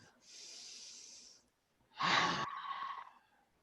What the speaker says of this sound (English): let's take a big deep breath